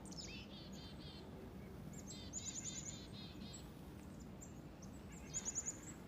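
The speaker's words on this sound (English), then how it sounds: "So just listen to the sounds of the birds." Several chickadees chirp and tweet at moderate distance over a steady low rumble, with short bright trills recurring every few seconds.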